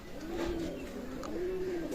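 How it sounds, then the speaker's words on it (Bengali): A Pakistani teddy pigeon coos in low, repeated, throaty calls that run almost continuously at close range, with no talk over them. "চমৎকার টেডি কবুতর"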